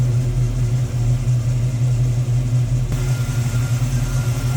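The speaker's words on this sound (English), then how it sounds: "A little rumble coming out of that Chevy powered V8" A 1957 Chevrolet 210 two-door post with a Chevy V8 and four-barrel carburetor idles with a low, steady throbbing rumble, even and unbroken at close range, with no voices present.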